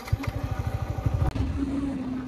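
A Yamaha MT15 motorcycle rides along with a low, pulsing engine note, then settles into a steadier drone after a brief dip, with faint wind noise.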